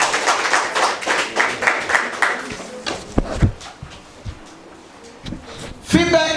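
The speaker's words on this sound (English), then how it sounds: "Clap for her. Clap for her." Audience clapping for a contestant at a school quiz competition, a burst of rhythmic hand claps that fades after a few seconds, followed by scattered taps and voices talking.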